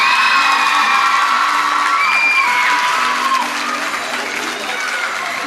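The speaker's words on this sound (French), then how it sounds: "le public vous applaudit." Audience at a local beauty pageant applauding and cheering, dense loud clapping mixed with whoops and shouts, the cheering fading slightly as the applause continues.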